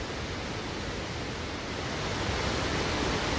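YS Falls in Jamaica gives a steady, dense roar of rushing water, close and continuous with no breaks.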